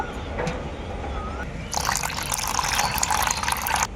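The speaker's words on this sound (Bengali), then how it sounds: "এখন এর মধ্যে একটু জল মিশিয়ে নেব" Water pours into thick tamarind pulp in a bowl, a faint trickle at first, then a fuller, louder splashing stream for about two seconds before it stops.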